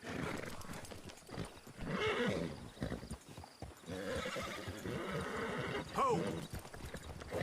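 Horse in the Red Dead-style Wild RP roleplay game neighing loudly around six seconds amid steady clip-clopping hooves, with mixed game ambience and talk underneath.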